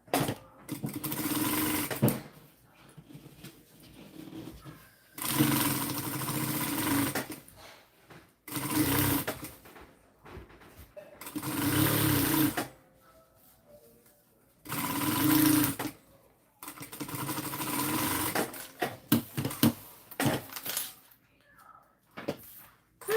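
A sewing machine stitches fabric in bursts, several loud close runs of rapid mechanical whirring lasting one to three seconds each, separated by short pauses with small clicks and handling noises.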